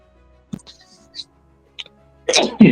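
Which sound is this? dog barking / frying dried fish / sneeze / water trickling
sneeze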